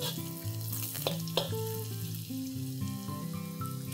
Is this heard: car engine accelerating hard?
no